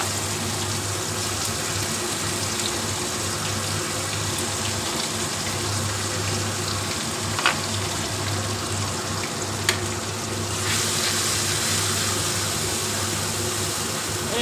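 Spice masala frying in hot oil with cumin for Kashmiri aloo dum, a steady, dense sizzle that holds throughout with a couple of faint clicks.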